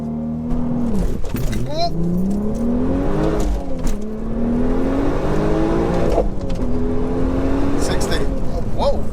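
A 462bhp turbocharged Golf R32 accelerating hard through repeated gear changes on a timed run, engine note climbing and dropping close to the microphone, with occupants talking over it.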